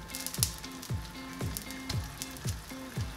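Leftover butter sizzling in a reduced pan sauce for salmon, a steady close fizzing crackle with soft rhythmic stirring scrapes repeating about twice a second.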